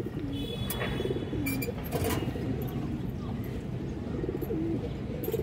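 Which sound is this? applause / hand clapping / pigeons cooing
pigeons cooing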